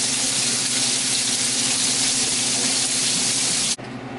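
Pork spareribs browning in hot oil in a pan give off a loud, steady, close sizzle that hisses evenly for several seconds before cutting off sharply to a quieter background.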